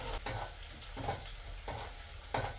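Green chili, onion and curry leaves frying in hot oil as a tempering for jackfruit seed poriyal, a continuous close sizzle broken by a few regular stirring scrapes against the pan, no speech.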